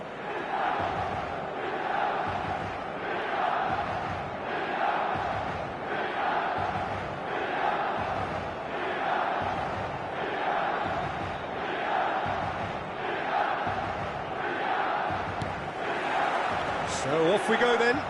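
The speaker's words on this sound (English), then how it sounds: "This crowd doesn't do ordinary, and we should be in for something very special." A stadium crowd in the eFootball video game before kick-off, roaring and chanting in a steady pulsing rhythm that swells roughly every couple of seconds, with voices heard throughout.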